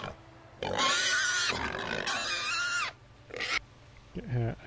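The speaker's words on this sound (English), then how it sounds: "excuse me if I don't find the squealing pig noises intimidating" Loud squealing pig noises from a creature in Star Wars: Knights of the Old Republic, two long harsh bursts followed by shorter squeals and grunts, close and filling the clip.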